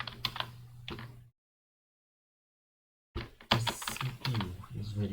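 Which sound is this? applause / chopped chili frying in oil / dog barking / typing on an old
typing on an old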